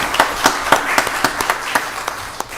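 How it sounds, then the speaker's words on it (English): A crowd at a county board of commissioners meeting applauding, with a string of distinct claps bunched together in a fairly steady rhythm, moderately loud and slightly distant, with no talking. "let's give Judge Mumford a round of applause as he's making his way up"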